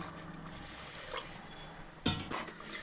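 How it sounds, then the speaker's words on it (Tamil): Water is poured into a pot of tamarind-based aara fish curry, a quiet liquid trickle and splash with a brief louder gush near the end and no talking. "அது கூட இன்னும் கொஞ்சம் தண்ணி சேர்த்துக்கலாங்க"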